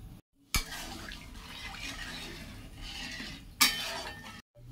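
Water goes into a simmering chara fish and cauliflower curry, a soft wet trickle and faint bubbling under two sharp metallic clinks from the pan or utensil, with brief silent gaps at start and end.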